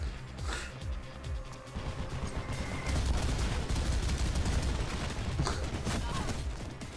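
Gunfire in the video game Mirror's Edge, a dense crackling barrage of shots under game background noise, moderately loud and continuous for several seconds.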